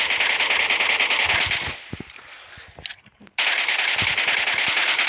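Video game gunfire in rapid automatic bursts, loud and close, with a sustained stream of shots that breaks off into scattered single shots and clicks before another long burst resumes.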